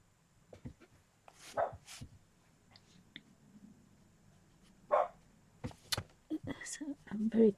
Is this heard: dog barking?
yes